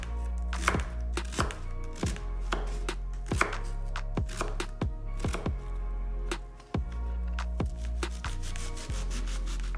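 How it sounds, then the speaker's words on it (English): A knife chopping an onion into small pieces on a cutting board for homemade sloppy joes, a steady run of sharp close taps with brief pauses, clear and alone. "All right, so we're just gonna cut our onion"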